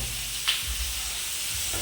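Cauliflower and potatoes fry in a pan with a loud, steady close sizzle and one brief clink, no voices.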